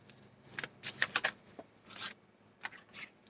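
Tarot cards being shuffled in several short riffling bursts, close and fairly quiet, with crisp papery flutters separated by brief pauses and no talking.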